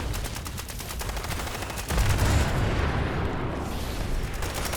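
A heavy explosive Nuka Launcher fires in the video game Fallout 76, with a loud blast and boom over rapid mechanical clatter and continuous gunfire-like rattling, dense and close throughout.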